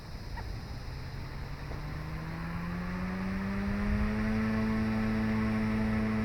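A Yuxiang F150 RC helicopter spools up in 3D mode, its rotor and motor whine rising steadily in pitch into a loud, sustained buzzing hum close by.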